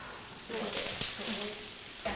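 Fish set skin side down in a hot pan with olive oil, giving a steady, fairly quiet sizzle that swells after the first half second and carries on with light crackling.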